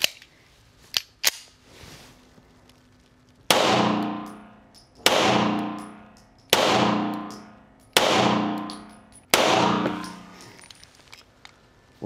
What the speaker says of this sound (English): we're gonna shoot the Tisas Regent